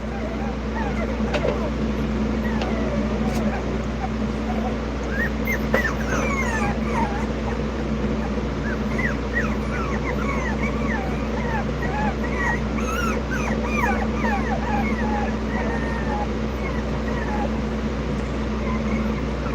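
A small runt dog whimpers and yips repeatedly in high, wavering cries over a steady low engine hum, with someone talking nearby.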